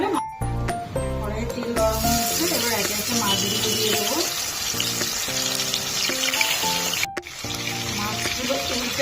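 Hot oil sizzles in a kadai (wok) before tilapia pieces go in for a curry with cauliflower and potato. A close, continuous hiss plays under a voice and tonal sounds, with a brief break near seven seconds.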